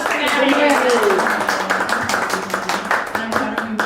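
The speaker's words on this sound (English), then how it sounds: "Round of applause for Maddie." A small group at a live karaoke duo performance gives a round of applause, steady close clapping with scattered voices and cheers mixed in.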